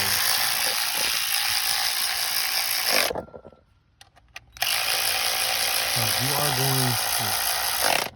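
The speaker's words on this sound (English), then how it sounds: "can use our electric ratchet to run it the rest of the way" An electric ratchet runs a spark plug down on a 2012 Honda Accord, a loud continuous buzzing whir that stops briefly and then resumes, close by, with a voice speaking over it near the end.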